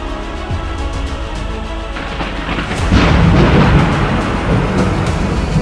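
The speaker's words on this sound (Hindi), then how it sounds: "आसमान में तेज बिजली कड़की और बारिश जो थोड़ी थमी थी, एकाएक फिर झमाझम बरसने लगी।" Thunder crashing overhead with heavy rain suddenly pouring down again after a lull, a loud continuous downpour that swells and grows denser partway through, with deep rumbles underneath.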